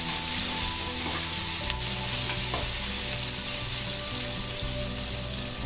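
Onions for jeera rice sauté in a pan until lightly pink, giving a loud, dense, continuous sizzle with no break, heard close and alone with no voices.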